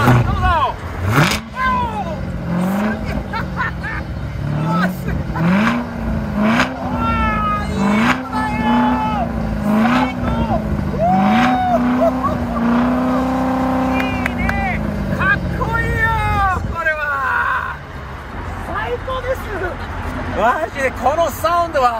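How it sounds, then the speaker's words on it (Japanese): Chevrolet Corvette with a quad-tip exhaust revs hard again and again, each loud rising and falling engine sweep close by, with people talking and reacting over the roar. "4本出しのサウンドはどうぞ。"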